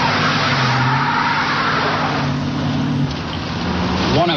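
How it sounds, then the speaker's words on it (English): A suspect's car drives by, a loud close engine roar with tire noise that swells and fades, heard alone without talk. "the car came by, matching the description of the suspect vehicle"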